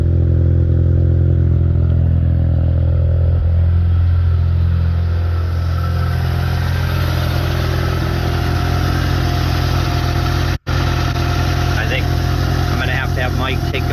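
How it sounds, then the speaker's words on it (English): A 1989 Mazda RX7 Turbo II with an aftermarket exhaust runs steadily at idle, its deep, throaty drone loud and close throughout, with someone speaking over it. "this exhaust on it. It really does sound nice."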